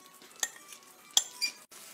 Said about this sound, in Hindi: इनको साथ साथ मिक्स करते जाना है